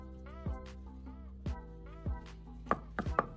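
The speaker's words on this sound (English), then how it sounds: "I'm using this second chopping head to chop electrical wires with ease, without any difficulty at all" An axe fitted with a chopping head strikes through electrical wires, several sharp chops spaced out then a quicker cluster of hits near the end, close and fairly quiet, with no talking.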